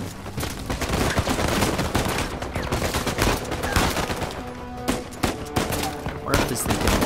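Dense gunfire from the Uncharted 4 action game rattles through nearly the whole stretch: loud, rapid bursts of automatic fire, with a faint voice now and then underneath.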